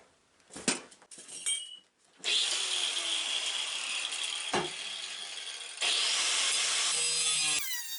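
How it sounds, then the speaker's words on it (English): An angle grinder cuts through old trampoline metal tubing with a loud, sustained high whine for several seconds. A few knocks and handling sounds come before the cut. "That's just 2 quick cuts with an angle grinder."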